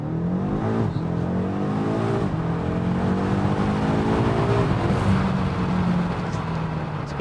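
A BMW M8 Competition's engine roars loud and close, its pitch swinging up and down through a run of downshifts, with blips and a throaty, continuous growl.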